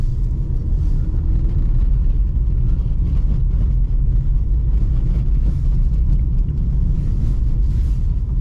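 A BMW xDrive car drifting in snow gives a loud, constant low rumble of engine and tyres, heard from inside the cabin without a break.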